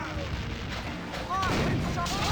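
Cannon fire in The Curse of Monkey Island, a heavy boom arriving about halfway through over a steady background, with the loudness staying raised afterward.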